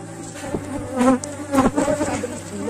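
Dense buzzing of honeybees at an opened hive from which swarms are being split, a loud close drone with individual bees swelling past the ear, no voices.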